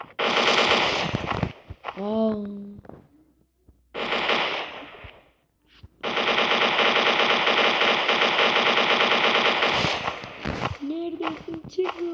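Rapid automatic gunfire from the Counter-Strike 1.6 video game comes in loud sustained bursts, broken by short pauses and a metallic ringing tone, with a voice talking faintly beneath.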